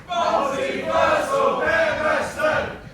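A professional wrestling crowd cheers and chants loudly, split between Emersyn Jayne and Alexander Roth, with swelling waves of massed voices filling the arena.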